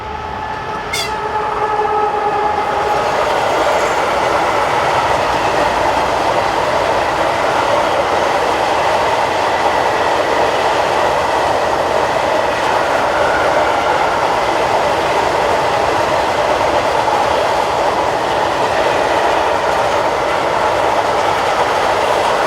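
Two class 131 electric locomotives haul a train of empty freight wagons on the Tatra Mountain route in Slovakia, a loud continuous rumble and rolling wheel noise passing close by, with a short horn-like tone near the start.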